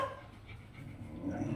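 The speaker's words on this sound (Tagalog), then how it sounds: "Tingnan nyo yung mga aso namin, oh." Dogs at home panting quietly and steadily, a soft breathy rhythm close by, with low rumbling room noise underneath and no talk.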